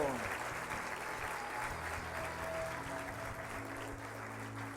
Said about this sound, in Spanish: Vamos a darle un aplauso al Rey de Reyes y Señor de Señores, Jesucristo.